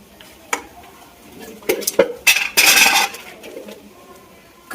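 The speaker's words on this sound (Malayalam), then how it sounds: "അതൊക്കെ ഇട്ടിട്ട് നല്ലപോലെ മിക്സ് ചെയ്ത് കൊടുക്കാം." Boiled potato and scrambled egg being mixed in a pan: a few scattered metallic clinks and scrapes of a utensil against the pan, with a longer rough scraping burst in the middle, close and otherwise quiet.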